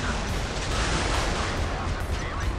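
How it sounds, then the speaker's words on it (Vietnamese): Warship cannon fire in the Modern Warships naval combat game, a dense continuous barrage of loud booming blasts that fills the whole clip without pause. "Trời ơi, cái pháo này."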